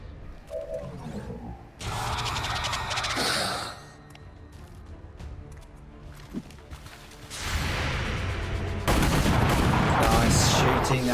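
Squad gunfire in the turn-based tactics game XCOM 2: loud, dense bursts of shots and blasts in several separate volleys, with brief quieter gaps of game ambience between them.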